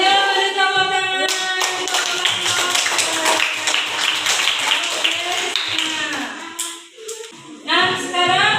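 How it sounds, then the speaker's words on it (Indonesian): A classroom audience of students claps together in a burst of brisk applause lasting several seconds, close and fairly loud, with a voice speaking before and after the clapping. "Ya, beri tepuk tangan."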